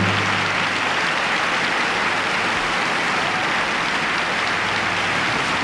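Audience applause at a Liberace show in Las Vegas, a dense, continuous roar of many hands clapping that stays loud and even from start to finish.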